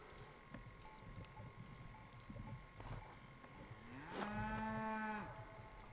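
A cow moos once up the road on a mountain ranch, a long, clear, moderately distant call rising over steady outdoor background noise.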